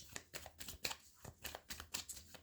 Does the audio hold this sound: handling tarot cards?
yes